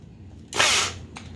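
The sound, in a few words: power drill used as screwdriver driving screw into wood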